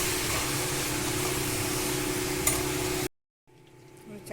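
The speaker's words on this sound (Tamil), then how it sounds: "கொஞ்சம் கரம் மசாலா, உப்பு, மிளகாத்தூள், மஞ்சள்தூள் இதையும் போட்டு சேர்த்து நல்லா வதக்கணும்." Garam masala, salt, chilli powder and turmeric are sautéed in a pan, giving a loud steady sizzle with a humming undertone before a sudden break into quieter, fainter frying.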